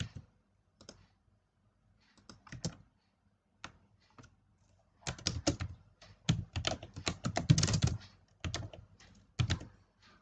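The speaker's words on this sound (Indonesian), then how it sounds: "Boleh diketik aja langsung ya" Someone types on a computer keyboard in a quiet room, with scattered keystrokes and short clicking bursts, denser in the middle, close and fairly soft.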